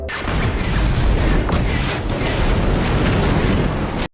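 A bomb blast hits a car in a sci-fi film scene, a loud, dense roar of explosion and debris sustained for several seconds before cutting off sharply.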